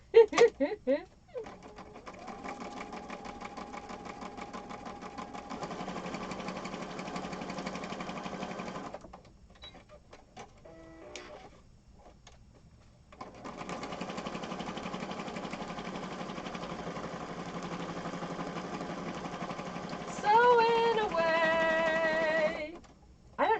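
A sewing machine runs a standard zigzag stitch on junk journal pages in steady mechanical bursts, pausing near the middle before a second long run, with a higher whirring change near the end.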